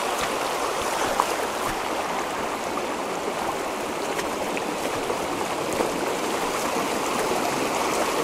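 A stream on the Isle of Man rushes down toward Glenmooar beach in a steady, close, broadband wash of flowing water with no pauses or voices.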